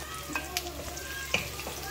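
Onions sizzle in a hot pan with garlic, with a few sharp scrapes of a utensil stirring them over a steady, moderately loud frying hiss.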